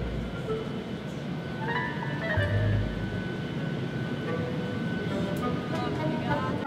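Airplane cabin after landing in Brasília, a steady low engine and air rumble filling the clip with faint background voices and clatter underneath.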